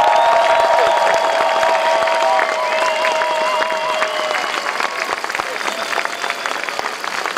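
Crowd applause at a championship celebration on the Marktplatz in Schwäbisch Hall, steady dense clapping and cheering from a large outdoor crowd, with an amplified voice carrying over it.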